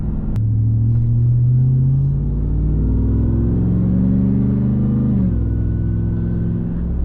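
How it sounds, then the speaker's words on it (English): A Ram TRX pickup with an aftermarket exhaust accelerates steadily to about 3000 RPM, its deep engine rumble and rising revs loud and continuous, with a brief shift-like dip near the end. "A nice little modest 3000 RPM acceleration."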